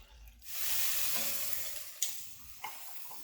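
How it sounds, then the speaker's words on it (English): Vegetables sweating in oil in a pan for braised short ribs, a sizzle that swells after a brief quiet start and stays steady, with a couple of sharp utensil clicks near the end. "I'm gonna lose a little bit of this oil and sweat off the vegetables"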